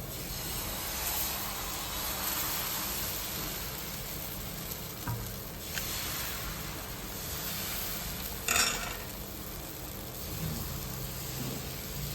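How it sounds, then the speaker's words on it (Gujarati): Rava dosa batter spread thin on a hot, oiled tawa gives a steady, soft sizzle and hiss that runs throughout, with a couple of brief scraping clinks partway through. "અંદર અડધી ચમચી જેટલું બેટરને આપણે પાથરી દેવાનું છે"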